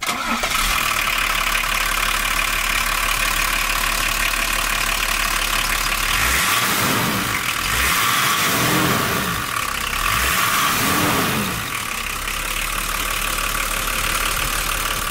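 A Volvo 760 GLE with a 2.5-litre turbodiesel cranks, catches and settles into a loud, steady diesel idle with a rough clattering throb, recorded close to the engine, with a few rhythmic swells in the running sound.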